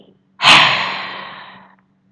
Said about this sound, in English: a deep breath in. Exhale deeply.